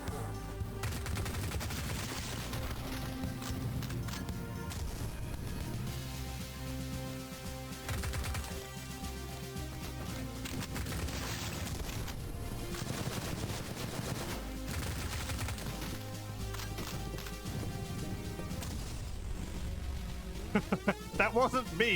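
Sustained gunfire in the shooter Cultic, a long busy stretch of rattling automatic shots and scattered blasts layered over game music, with a voice speaking at points throughout.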